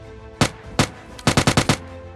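Gunfire in a battle royale video game: two separate shots, then a quick burst of five, sharp and fairly close, with no voice over them.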